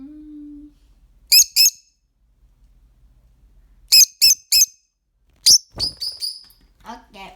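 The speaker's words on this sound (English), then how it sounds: "The bird always comes at the wrong time." Short bursts of high, sharp bird chirps in quick groups of two and three, loud and near, separated by near silence, with a brief voice tone at the start.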